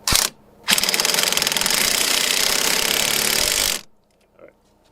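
A power tool, likely an impact driver, runs in a short blip and then one steady buzzing burst of about three seconds while tightening a 19 mm axle nut on a Subaru Impreza during a front CV axle swap, close and loud before stopping abruptly.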